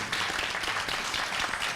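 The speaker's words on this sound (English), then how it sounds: "A round of applause." An audience at an NAACP-sponsored high school panel applauds, a dense, steady wash of clapping filling the short moment at even loudness.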